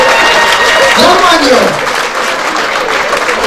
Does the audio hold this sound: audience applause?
yes